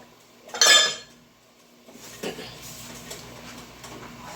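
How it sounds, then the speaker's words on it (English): A utensil clinks and scrapes against a pot of chicken and dumplings, with a loud scrape at first and then softer stirring and light taps, close and without speech. "we're just going to stir this around here again, make sure my dumplings aren't just sticking together"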